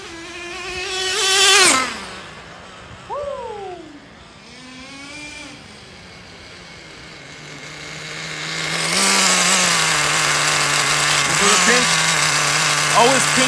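A Traxxas Jato 3.3 nitro RC car engine with a freshly fitted carburetor runs at a high, buzzing whine that sweeps up and down in pitch, drops to a steady idle drone, then rises loud again near the end.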